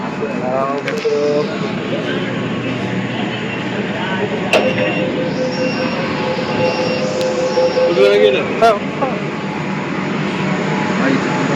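A metro train pulls into an underground station on Kolkata's underwater line, with a loud steady rumble and brief wheel squeals over crowd noise and nearby talking.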